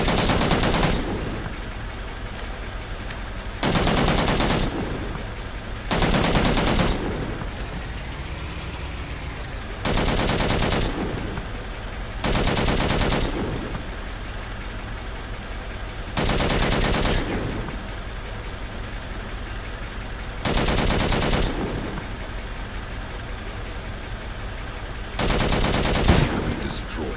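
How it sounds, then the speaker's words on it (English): A vehicle-mounted weapon fires at an enemy vehicle in the Angels Fall First video game, with loud, sharp bursts repeating at irregular intervals over a constant engine-like drone. "order your vehicle's weapon to fire by issuing a target order"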